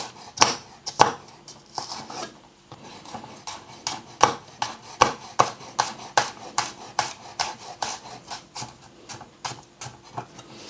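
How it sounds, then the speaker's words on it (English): A knife chops a thumb-sized piece of garlic, skin on, into fine pieces on a board, a close, steady run of sharp taps, about two per second, with a short pause early on. "I've got a thumb-sized piece of garlic here, which I'm going to cut into fine little pieces"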